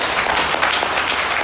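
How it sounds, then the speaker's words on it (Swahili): A brief burst of thick, steady applause from a crowd at a TANESCO utility event in Iringa, saluting the emergency repair team, loud and continuous. "Wale wapigiwe makofi mengi sana wale."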